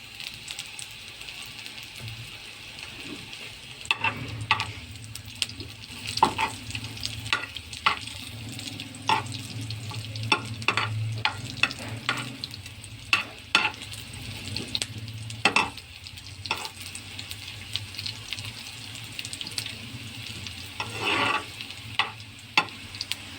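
Carrots and other vegetables stir-fried for spicy street-style chow mein: a steady, close sizzle runs throughout, broken by repeated scrapes and clicks of a spatula against the pan, with no talking.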